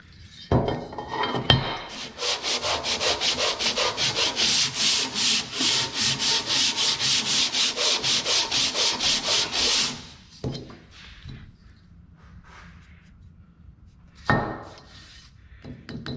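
A Wisconsin engine head surface is sanded smooth by hand during a repair: a fast, even run of back-and-forth rubbing strokes lasting several seconds, framed by a few isolated scrapes and knocks, close and fairly loud.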